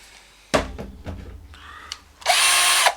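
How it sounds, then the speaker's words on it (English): An electric drill spinning a wire brush whirs in short bursts, then runs in a longer, louder, high-pitched spin near the end, with clicks and knocks between. "put them onto an electric drill, and then that'll give you even more power for cleaning stuff"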